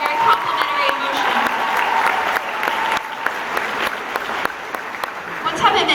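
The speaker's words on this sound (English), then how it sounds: "Give her a round of applause." Audience applause at a Burbank convention event: steady, dense clapping from a large crowd throughout, with voices mixed in.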